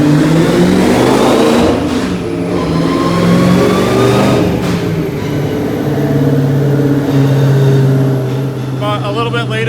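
A car engine revs hard on a dynamometer and holds high, rising and falling in pitch with a loud mechanical whine, brief voices faintly in the background.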